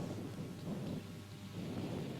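Rain falling with low thunder rumbling beneath it at a rain-hit cricket match, a soft steady wash heard alone and fairly faint.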